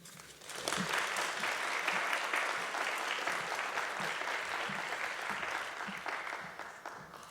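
A large audience at a college State of the College event claps steadily for faculty speakers, a sustained even roar of applause lasting several seconds with no talking over it.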